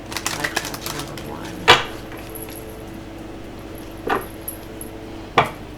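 Tarot cards being shuffled by hand, with a quick flurry of soft riffling clicks at the start followed by a few sharper, isolated snaps of cards, close and fairly quiet against a faint room hum.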